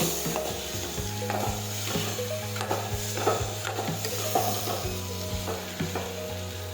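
Green cowpea curry sautés in a cooker pan, a constant close sizzle with rhythmic stirring scrapes and spoon knocks against metal, over a steady low hum.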